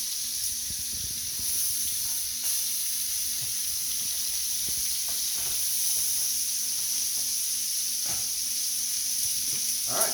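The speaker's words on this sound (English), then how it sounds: "we just want to really sear that outside real good" Venison backstrap searing in hot oil in a cast iron pan, a steady close sizzle and hiss with faint clinks and stirring, continuous throughout without talk.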